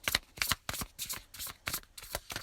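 Tarot cards shuffled by hand in repeated quick riffling bursts, about seven crisp papery flurries in steady rhythm, close and moderately loud with no talk.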